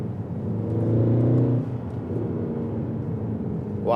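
A Mercedes C63 AMG saloon with factory exhaust pulls hard, its deep, loud engine note rising through the first second and a half, then settling into a steady, rumbling drone close by.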